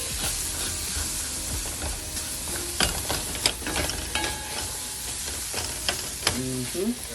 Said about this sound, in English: Stir and let it cook for a minute.